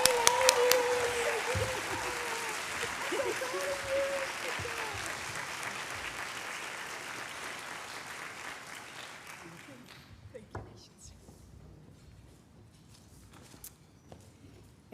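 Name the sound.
audience applause for award winner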